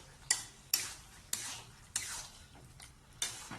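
Duck meat is stir-fried in a pot, with six sharp spatula scrapes against the pot spaced roughly half a second apart over a faint low sizzle, fairly quiet and close, with no talking.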